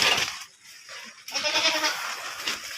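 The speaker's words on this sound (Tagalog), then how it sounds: "Pastor tayo ng ating mga alagang kambing." Farm goats bleat loudly and close by in Oriental Mindoro, with a sharp cry at the start and a longer, wavering bleat after a short pause.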